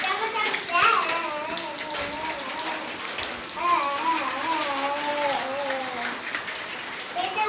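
Steady rain patters on surfaces outdoors as a continuous hiss, while a person talks over it throughout.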